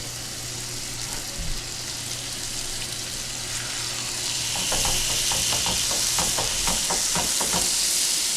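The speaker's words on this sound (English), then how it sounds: "So I'm just going to get those cutlets in there, just on the first side" Chicken cutlets go into melted butter in a pan and sear with a steady close sizzle that swells louder partway through, crackling and popping densely, with no voices.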